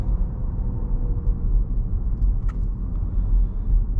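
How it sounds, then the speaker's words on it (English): Car cruising on a main road at about 45 to 50 miles per hour, steady low rumbling tire roar and wind noise heard from inside the cabin, continuous and even. "We'll see what it sounds like tire noise wise, and also wind noise."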